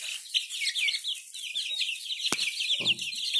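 Young brahma chickens peep and chirp softly in a steady high twitter, with a brief low cluck and a sharp click near the end, close but fairly quiet.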